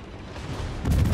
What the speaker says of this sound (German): Aber hier jetzt Richtung Isokase gehen auch seine Schüsse raus.